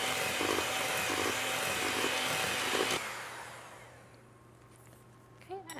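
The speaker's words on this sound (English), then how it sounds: "we're going to use an electric hand mixer" Electric hand mixer beating strawberry cake batter with sugar and eggs until pale, a steady loud whirring hum that runs for about three seconds and then cuts off, leaving faint rustles and small clinks.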